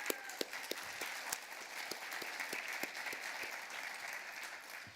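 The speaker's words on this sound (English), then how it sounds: "let's give them a round of applause" A modest round of applause at a prize announcement event, quiet and somewhat distant, with a few sharp, distinct nearby claps standing out over a soft, steady wash of clapping.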